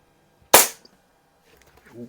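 A single sharp crack from a Walther LGR .177 air rifle fired at a target, loud and close with a short decay, followed by faint rustling and a brief murmur of a voice.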